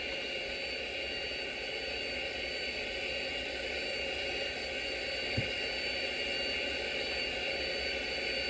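Airbus A321neo jet engines at takeoff thrust in the flight game SimplePlanes, a loud, steady broadband roar with a constant whine, unchanging throughout apart from one brief tick.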